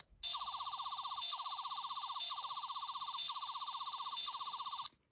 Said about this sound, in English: you have the setting there that Matt Smith used to kill the Cybermat.